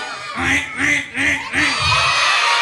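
A voice imitates a duck, giving four nasal quacks in a steady rhythm, close and fairly loud, followed by a longer drawn-out quack.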